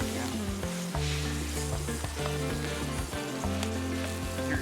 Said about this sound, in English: Sizzling. Yeah. The steak looks like it's coming alive.